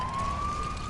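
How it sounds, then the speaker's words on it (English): Emergency truck siren in the Lego City Undercover game, a single steady high tone that glides slightly downward, loud and continuous over a low rumble for about a second. "of course it has sirens"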